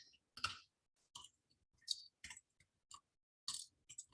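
Mouse clicks on a computer interface, a series of short, sharp, close clicks spaced irregularly over a quiet background, about ten in all.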